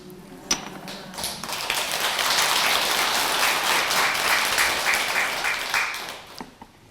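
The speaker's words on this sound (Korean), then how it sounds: "처음 박수 받았죠?" An audience at a Buddhist temple dharma talk applauds a monk, the clapping swelling after a few early taps, holding full and steady, then tapering off.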